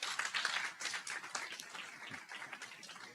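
Scattered audience applause at a graduate medical education program coordinators' retreat awards presentation, a soft, fairly distant clatter of claps from a modest crowd over a few seconds, no talking.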